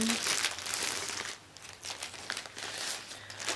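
Crinkling plastic packaging on a Crochet Now magazine, a close, continuous rustle and crackle that briefly eases mid-clip before picking up again, with faint background presence.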